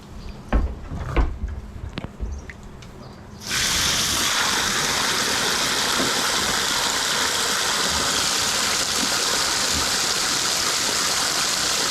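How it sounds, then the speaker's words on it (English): A few clunks and knocks come first, then water is poured in a loud, steady stream to top off animals' water, running on unbroken to the end. "We'll just top their water off."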